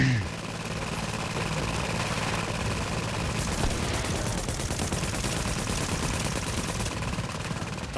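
Rapid, steady gunfire in the video game The Division, a continuous rattling burst over an engine-like drone, loud and unbroken for the whole stretch, with talk mixed in.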